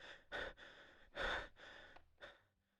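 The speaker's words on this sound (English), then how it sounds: "Who is breathing like that?" Heavy breathing from a character in the video game Deadly Premonition: Origins: several loud, close, drawn-out breaths in an uneven rhythm, fading into quieter, shorter puffs.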